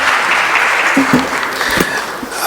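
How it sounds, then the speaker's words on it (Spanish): A conference audience applauds a departing speaker at a bicentennial international conference, a steady burst of clapping filling the room throughout with a faint murmur underneath. "lo despedimos con un fuerte aplauso"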